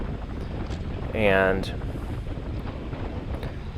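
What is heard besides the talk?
wind blowing during a bike race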